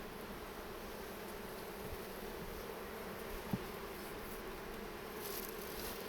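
A steady, dense buzzing of many honey bees in an open hive fills the clip, continuous and fairly soft, with a faint tap partway through.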